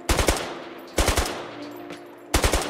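Full-auto bursts from a Turkish army rifle in the Squad video game, three loud, close volleys of rapid shots with short pauses and ringing tails between them.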